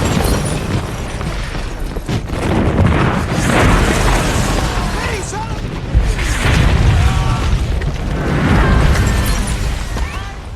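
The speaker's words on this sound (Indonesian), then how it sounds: "dengan menembakkan beberapa artileri ke benteng-benteng parit Jerman" Artillery firing on German trench fortifications in a WWI battle scene, with repeated deep booms and explosions rolling through a loud, dense mix, with voices partly audible underneath.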